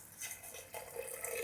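Water poured into a pot for cooking green gram, a soft splashing trickle that grows fuller midway, faint and close.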